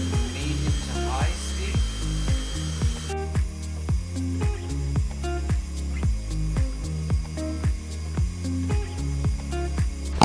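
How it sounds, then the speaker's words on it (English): Electric stand mixer whipping three cups of heavy cream at medium-high speed, a steady motor whir with rhythmic beater thumps repeating through the whole stretch, loud and close, with a brighter high hum joining partway through. "I'm pouring into the mixer 3 cups of heavy whipping cream. And I am going to start mixing."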